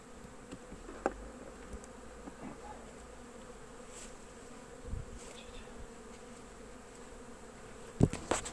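Honeybees hum at a Cordovan colony hive in autumn, a soft continuous buzz close by with occasional brief louder passes and light knocks, no talking.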